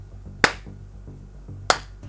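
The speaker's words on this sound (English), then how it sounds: "I will clap in my hands and I will clearly see the delay." Two sharp hand claps about a second and a quarter apart, crisp and fairly close in a quiet room, made to check the delay of a budget capture card against an Elgato one.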